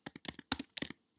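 Quick, irregular clicks of someone typing on a computer keyboard, a short burst of separate keystrokes heard close up with no one speaking.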